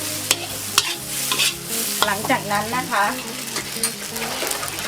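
Riceberry egg fried rice sizzles and crackles in a hot pan as a utensil scrapes and stirs in quick, uneven strokes, with someone speaking briefly in Thai over it.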